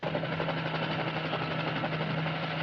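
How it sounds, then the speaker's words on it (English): A helicopter in trouble while flying produces a steady, fairly faint rotor and engine drone with a constant low hum and rapid blade thrum, unbroken throughout without voices. "sounds like a chopper in trouble"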